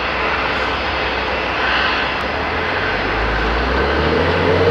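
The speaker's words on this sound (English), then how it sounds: "This is a 737-800 and it's headed to Calgary." A WestJet Boeing 737-800 jet at Toronto Pearson Airport produces a loud, steady engine roar with a broad rushing hiss, heard continuously without talk.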